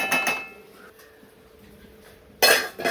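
A metal lid clinks and clatters onto a cooking pot of coconut-and-mango fish curry, with a short rattle at the start and another sharp clank near the end, separated by quiet.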